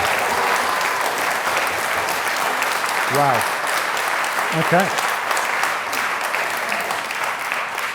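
Sustained audience applause fills an indoor community awards ceremony in Lichfield, a steady wash of clapping throughout, with a couple of brief spoken exclamations cutting in over it.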